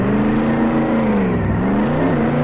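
A car in the Roblox game Jailbreak, the Air Tail, drives along with a steady engine hum that rises and falls slightly, loud and continuous, with no talking.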